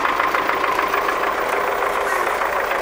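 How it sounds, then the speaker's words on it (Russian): MTZ tractor with a 24-volt system running just after starting, a steady close mid-pitched diesel drone with a rapid even knock, loud and continuous with no talk. "Это у нас 24 вольта, но я не показал, как он заводится"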